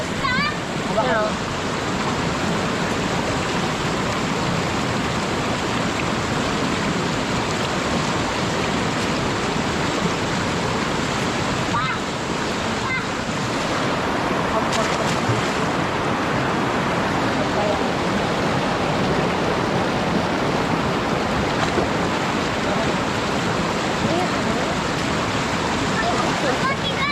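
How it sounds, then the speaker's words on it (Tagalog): River water flows steadily and fairly close, a continuous broadband rush through the whole stretch, while people bathe and eat at a clear river on a hot day; voices talk intermittently over it. "Ganda ng flow ng tubig."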